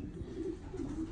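A homing pigeon cooing softly in a loft, a few low rolling coos close by against quiet background noise.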